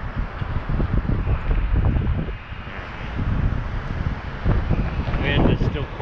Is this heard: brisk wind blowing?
yes